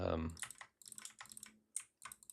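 Rapid clacking of a computer keyboard, close and crisp, in quick irregular bursts separated by brief pauses.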